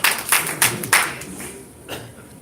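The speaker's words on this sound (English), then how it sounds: "Big round of applause." Small live audience at a horror host hall of fame induction giving a brief round of applause, a few sharp claps up close fading into scattered clapping, with voices talking under it.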